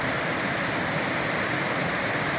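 Constant roaring rush of the Cascade du Cœur waterfall in the rain, dense and even, with no pauses or voices over it.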